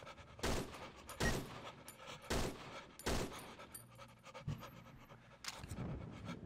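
Creatures pant in the horror game Cry of Fear, a series of loud, harsh breathy bursts at a steady rhythm, close up, followed by lower rumbling and a few more gasps.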